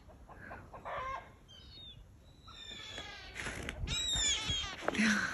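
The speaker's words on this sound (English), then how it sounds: "The neighbor's rooster." A rooster crowing with several chickens clucking nearby outdoors, scattered calls building into a loud, busy burst of crowing and squawks toward the end.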